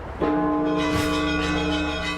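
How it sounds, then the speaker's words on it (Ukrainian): A large church bell rings in a belfry, one deep strike opening into a rich, sustained metallic hum with a long shimmering decay, loud and close. "а великий дзвін так і названий Мазепа"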